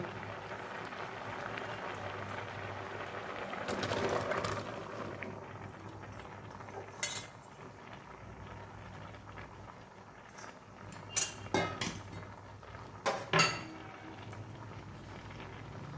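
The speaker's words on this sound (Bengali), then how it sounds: "এবার চাল কুমড়োগুলো দিয়ে দেবো" Pieces of ash gourd drop into a pot of nearly cooked lentils, giving a few short splashy bursts and clatters over a steady, soft bubbling simmer.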